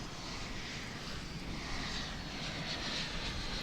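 An Airbus A319 airliner at Dallas Fort Worth airport, its jet engines producing a loud, steady, broadband roar that fills the whole stretch without pause.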